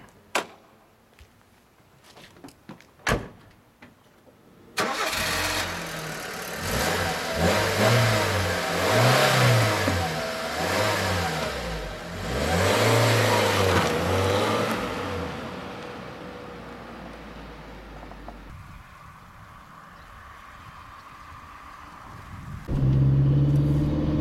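A 2001 Nissan Micra's small engine cranks briefly and starts, then revs and accelerates through several gears with rising and falling tones as it drives off, settling into a steady cruising hum before another throttle push.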